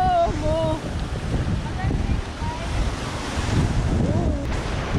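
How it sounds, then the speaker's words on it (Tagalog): Strong wind buffets the microphone while surf rolls and breaks steadily at a Philippine beach, a loud continuous roar; faint voices sound briefly near the start. "Ang hangin dito."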